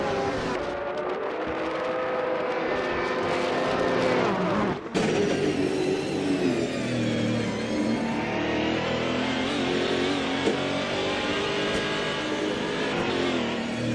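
Race cars in a racing video game roar continuously with engines revving and shifting pitch as they accelerate. There is a brief dip and then a sustained high-pitched engine drone, with no voices.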